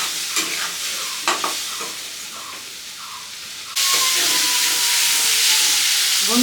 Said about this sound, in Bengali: ভাজা ভাজা তেল ছেড়ে দেবে, তখন মটরটাকে দিয়ে দেবে।